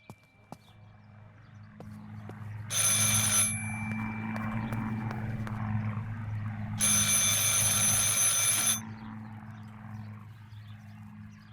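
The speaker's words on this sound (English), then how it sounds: "I should pick up the phone but remain silent." Old telephone ringing in the video game Martha is Dead, two long bright bell rings separated by a pause, loud over a low ambient hum.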